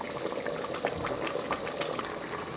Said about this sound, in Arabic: هاد المرقة كنتركوها حتى تتشحر مزيان باش نوضعو فيها البيض